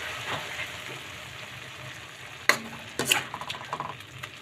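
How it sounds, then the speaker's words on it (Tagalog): Chili, onion and garlic sautéing in a pan, a steady close sizzle with a few louder spatters and stirring scrapes toward the end. "Ginasi ko lang yan guys, ginasa"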